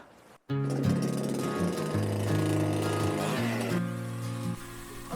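A homemade machine cuts firewood logs to an even length: a loud, steady mechanical roar with strong tonal hum starts after a brief pause and continues throughout, shifting pitch slightly as the wood is cut.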